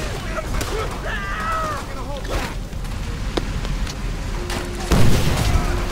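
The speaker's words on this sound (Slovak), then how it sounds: "Ne, granát." Call of Duty: World at War battle noise, with a grenade explosion and gunfire: scattered shots and booms over constant combat din, a heavier blast near the end, while a player talks over it.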